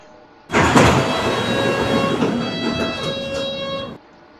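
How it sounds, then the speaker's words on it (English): A London Underground-style subway train in Metro Simulator powers up with an abrupt onset into a loud, steady mechanical hum and whine that holds for about three seconds, then cuts off sharply. "let me turn on the train"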